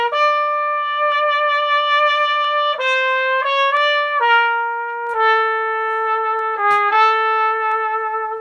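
A brass instrument plays a slow run of sustained single notes aimed straight into a music stand, giving a slightly muffled, dulled tone; the playing is steady and fairly loud, with no talking.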